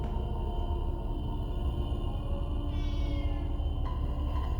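A cat meows in the video game Don't Feed the Cat, a short tonal meow over a steady, loud game background hum.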